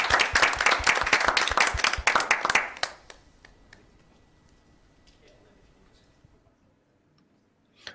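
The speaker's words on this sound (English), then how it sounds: "Can we get a big round of applause for Mete Gazoz?" An audience at an Olympic Esports archery qualifier in Antalya bursts into loud, dense applause for a few seconds, then it fades quickly to near silence with a few scattered claps.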